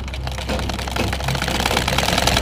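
A sewing machine stitches a decorative design around a kameez neckline, running in a steady, fast mechanical chatter that stays loud and continuous throughout.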